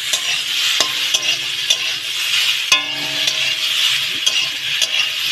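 Food fries in a pan with a steady crackling sizzle, punctuated by repeated metallic knocks and scrapes from a spatula stirring against the pan.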